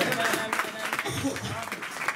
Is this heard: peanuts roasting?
no